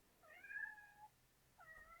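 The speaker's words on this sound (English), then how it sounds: "Sorry, that's my cat." A house cat gives two clear meows close by in a quiet room, a longer drawn-out one followed by a shorter call after a brief pause.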